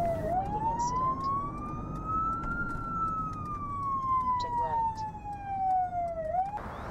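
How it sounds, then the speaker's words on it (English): A wailing police siren rises and falls slowly at night in Austin, sounding fairly close over a low rumble of traffic, with no other voices. "As night fell, the sirens are a constant reminder"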